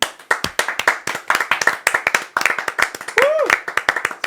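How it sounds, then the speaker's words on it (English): A crowd claps in rapid, steady applause lasting several seconds, close and lively, with voices speaking over the clapping. "Can we just clap?"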